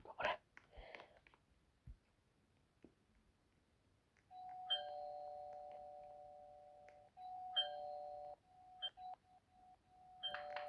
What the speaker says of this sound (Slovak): Budem mi zvoniť a klopať.